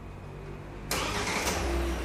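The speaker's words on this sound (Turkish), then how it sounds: "Çalıştırın arabayı." A Kia Sportage engine cranks and catches about a second in, then settles into a steady, close idle that holds to the end.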